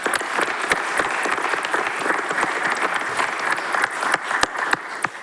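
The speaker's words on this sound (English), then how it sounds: "So let's give them a round of applause." An audience at a town council meeting applauds steadily for several seconds, dense clapping with a few sharper, louder claps standing out near the end.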